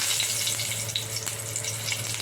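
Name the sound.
cumin seeds frying in hot oil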